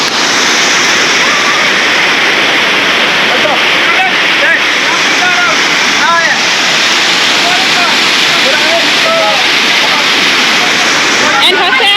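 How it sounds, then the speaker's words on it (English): Nyaroha Waterfall roars in a loud, unbroken rush of falling water close by, and a voice talks faintly beneath it. "I've been informed that this waterfall is called Nyaroha"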